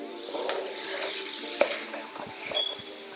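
Onions and peppers sizzle and fry in a pan for dirty rice, a steady close crackle with occasional stirring scrapes and a brief spoon clink.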